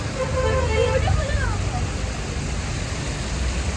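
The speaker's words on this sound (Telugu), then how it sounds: "మన రాజీవ్ గాంధీ పార్క్ ఇక్కడ వాటర్ ఫాల్ అనేది పెట్టారు" An artificial waterfall fountain in Rajiv Gandhi Park, Vijayawada, gives a steady, broad rush of falling water throughout, with a low rumble and faint distant crowd noise beneath it.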